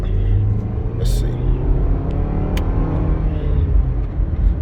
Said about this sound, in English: all you would hear is this four-cylinder screaming the whole way up, the entire trip.